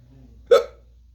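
A single sharp hiccup from a drunk person, one abrupt loud burst close to the microphone in an otherwise quiet room.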